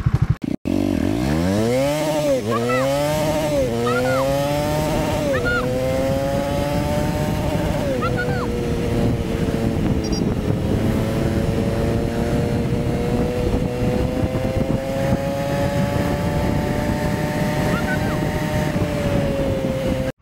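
A Triumph Speed 400 motorcycle pushed toward top speed, its engine climbing through several quick upshifts with rising whines, then holding a loud, steady high-revving drone alongside wind rush.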